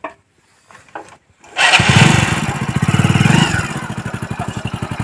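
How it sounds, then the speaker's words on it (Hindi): A motorbike engine catches after a few quiet knocks, then roars loudly and settles into a fast, throbbing idle, close by and heard alone. "बाइक स्टार्ट हो चुकी है।"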